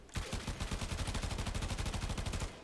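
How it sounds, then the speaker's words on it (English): Minigun-style primary fire in a video game, a rapid, continuous burst of gunfire with closely spaced, evenly repeating shots lasting a couple of seconds, loud and alone without talk. "This weapon, just like the Phantasma, does have 2 fire modes, but we'll solely be talking about the primary fire, which is pretty much just a minigun."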